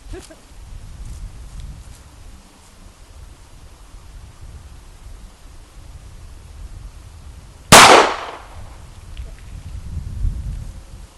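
A single H&K USP pistol shot cracks out loud and close, with a brief ringing decay. Before and after it there is only quiet outdoor rumble.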